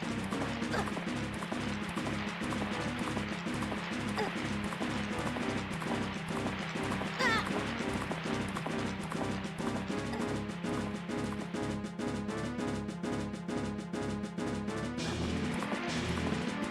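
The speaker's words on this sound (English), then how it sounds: "Yes, that's my horse." Horse hooves clop in a quick steady galloping rhythm from Majora's Mask, repeated evenly throughout over constant game music, fairly loud and continuous.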